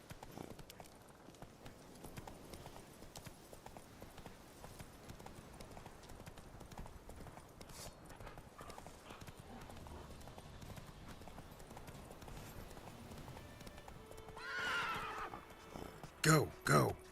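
Roach, Geralt's horse in The Witcher 3, gallops with a fast, steady clip-clop of hooves running throughout, followed near the end by a loud neigh and a couple of sharp bursts.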